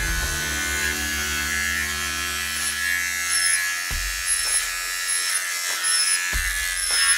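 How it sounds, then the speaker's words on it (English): A steady electric shaver buzz runs close up for about four seconds while shaving a puppy's paw pads, cuts out, then briefly returns with light rustling between. "my shaver to shave the pads"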